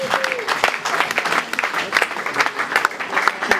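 Applause from a church congregation during a live worship service celebrating Jesus, steady clapping and cheering with voices mixed in throughout.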